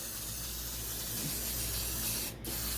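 A steady hiss of aerosol cooking spray on gluten-free focaccia dough runs continuously, close and fairly loud, with a brief pause near the end before spraying resumes.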